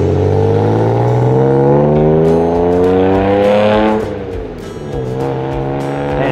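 A BMW 335i accelerates hard, its engine note climbing through the revs, then easing off briefly before pulling again; loud, close and alone, with no voices over it.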